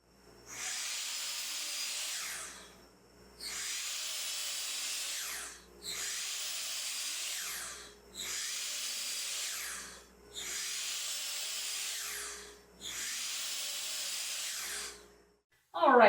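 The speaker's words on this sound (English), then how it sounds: "we've moved over here to the miter saw, and the first thing we're going to do is cut up this 2x4" A miter saw cuts through 2x4 lumber in six separate high, whining bursts of roughly two seconds each, loud and close, divided by brief quiet gaps as it spins down between cuts.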